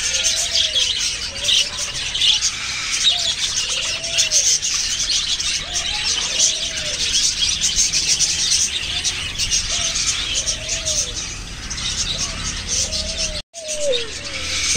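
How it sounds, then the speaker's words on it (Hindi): Lovebirds of assorted colours in a cage chirp in short repeated calls throughout, with dense high chatter from the flock behind them and a soft cooing, dove-like note mixed in; no talking. "ये केज है, इसके अंदर आप देख सकते हो कि सारे लव बर्ड्स है इसके अंदर, अलग अलग कलर्स के लव बर्ड्स है इसके अंदर।"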